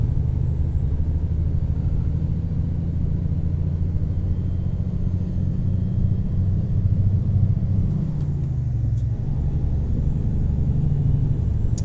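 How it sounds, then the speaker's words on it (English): A Kenworth T610 truck engine in American Truck Simulator rumbles steadily and loud, its deep drone holding then dipping briefly as revs shift near the end, with no voices. "Need to rev it a little bit better."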